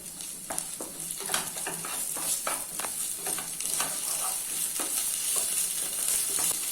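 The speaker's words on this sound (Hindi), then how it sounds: "अभी इसमें 1 चम्मच जिंजर गार्लिक पेस्ट ऐड कर देते हैं और मिक्स कर लेते हैं।" Onions and ginger garlic paste fry in a pan for butter chicken, sizzling continuously while a spoon stirs them in quick, repeated scrapes, close and fairly loud, with no speech.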